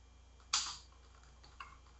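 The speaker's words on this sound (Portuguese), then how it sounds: "O meu teclado ele não está muito legal, a barra de espaço está travando" A computer keyboard with a sticking space bar gives two sharp key clicks, one loud and one softer, close up in a quiet room.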